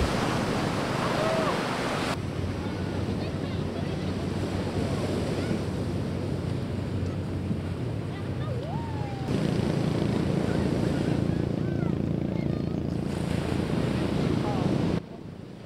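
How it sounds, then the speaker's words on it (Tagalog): Strong ocean waves surge and wash continuously onto a beach where a tree line meets the sand below mountains, a broad steady roar with wind buffeting the microphone throughout. "The waves were strong but calming"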